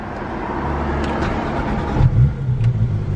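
A Porsche engine rumbles steadily after a start at a fuel station, with a deeper, louder surge of revving as it pulls away near the end; no voices.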